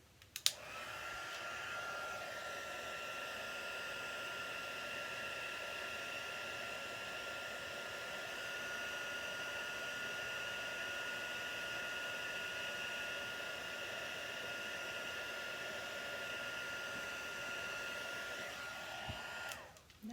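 A heat tool blows steadily to melt embossing powder on a papercraft piece, a constant close whirring hiss lasting about twenty seconds and cutting off cleanly at the end, with no talk.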